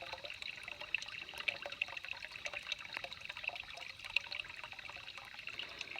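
Spring water trickling into a DIY spring box cistern, a faint continuous dribble with small splashy drips scattered throughout, alone and close.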